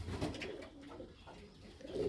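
Pigeons coo softly in a loft, a low throaty murmur of a few calls, faint and somewhat distant with no voices over it.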